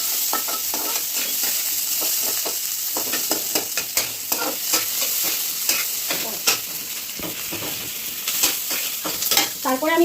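Onion and dried red chilli frying in hot oil give a steady, close hiss, with repeated scraping stirs and clinks of a spoon against the pan throughout, while the fish korma is being prepared.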